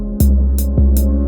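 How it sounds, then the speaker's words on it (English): Deep 808 bass notes in a trap beat, three heavy booming hits with sharp attacks, each sustaining into the next, loud and dry, ending in an abrupt cutoff. "They took the 808, and at the end, they moved the notes up 7 semitones"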